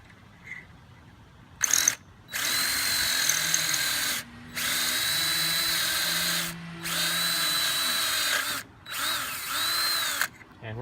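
A power drill whines through a hole guided by a jig, in four long steady bursts separated by short pauses, close and clear, with a brief rattle before the first run.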